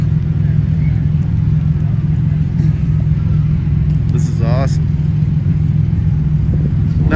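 A Toyota six-cylinder engine in a bump-and-run race car runs at a loud, steady, close rumble for the whole stretch, with a brief higher whine midway.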